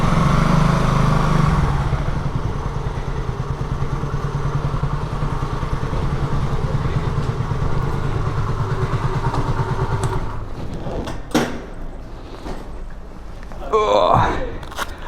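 A dusty BMW R1100S motorcycle engine runs steadily and loud, a low throbbing drone that fills most of the stretch before fading into scattered knocks and handling noises near the end.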